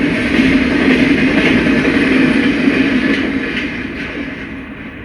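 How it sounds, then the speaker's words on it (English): An eastbound Santa Fe mail train rushes through Floyd at speed, a loud, steady rumble and roar of wheels and cars holding close for the full stretch before easing slightly at the end, with no talk. "This eastbound Santa Fe mail train lost no time through Floyd."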